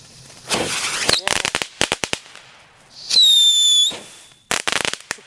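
New Year's fireworks from a 2012 set fire off in sharp bursts of crackling pops, then a loud rising whistle as one launches, followed by more rapid pops nearby.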